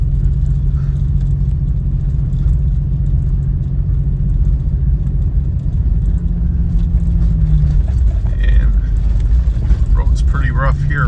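A car in four-wheel drive at about 25 to 30 mph on a rural road buried under more than 32 inches of snow, with a loud, steady engine and tire rumble running throughout under nearby talking.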